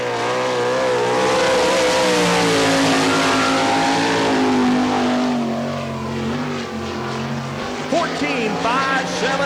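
Sprint cars roar around a dirt track on an opening lap of an All Star Circuit of Champions event in Barberville, Florida, a dense, loud blend of racing engines with harmonic whines shifting in pitch, while an announcer talks over the din.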